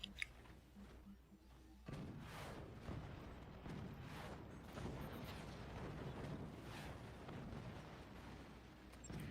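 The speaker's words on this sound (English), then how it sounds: "More nukes launch." Nukes launching in the strategy game Forts: a series of rumbling booms and whooshing blasts over a low continuous roar, moderately loud and repeated every second or so, with no talk.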